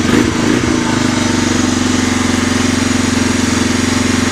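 Cold-started 1985 Honda 250SX ATV engine running, a loud, close single-cylinder putter that settles from a brief rougher burst into a steady, rapid idle throb with no voices.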